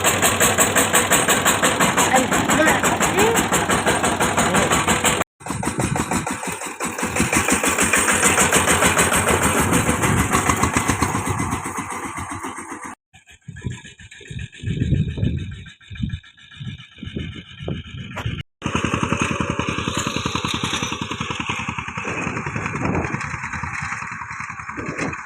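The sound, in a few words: mini tractor engine started with a pull rope, running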